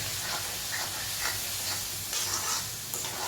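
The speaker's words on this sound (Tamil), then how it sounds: "அப்படியே இந்த எண்ணெயிலேயே நல்லா வந்து வதங்கணும், பூண்டு வதங்கணும்." Garlic cloves fry in hot oil for a garlic pickle, giving a steady close sizzle with soft crackles and occasional stirring scrapes, no voices.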